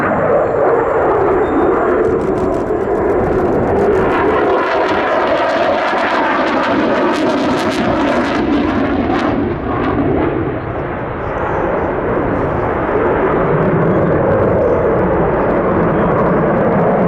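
A specially painted display jet flies at the Duxford air show, a loud sustained roar of jet engine that rises and shifts in pitch as it passes, with a crowd setting around it.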